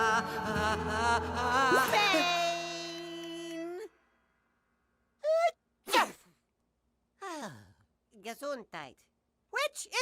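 A cartoon character sneezes from bright light: a sung, voiced buildup is followed by a sharp sneeze, and several quick gasping sniffs and short sneeze-like bursts come after it.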